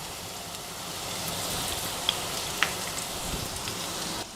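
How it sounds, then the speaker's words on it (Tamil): Chopped chow chow (chayote) softening in oil in a pan for chutney, with salt added, giving a steady low broadband sizzle throughout, fairly faint, with a couple of brief sharp pops and no voice. "நல்லா வதக்கிக்கலாங்க."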